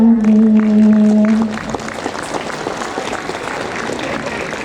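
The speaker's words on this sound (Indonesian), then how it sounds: "Mari kita beri tepuk tangan sekali lagi." An audience claps after a Quran recitation of Surah Al-Kahf at an Isra' and Mi'raj commemoration at SMKN 3 Padangsidimpuan, a school, with dense steady applause that starts under a fading held tone and continues for several seconds.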